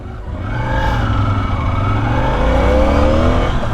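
Motorcycles start off and ride away, engines revving and accelerating in a loud, steady roar with rising tones that fill the whole stretch.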